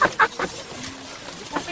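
A few short clucks from a chicken sound near the start, then quieter background with faint voices nearby.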